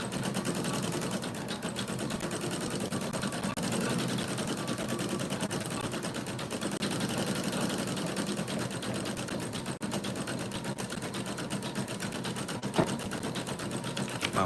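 A sewing machine runs steadily and continuously with a dense mechanical whir, close and fairly loud, without pauses, for the whole stretch.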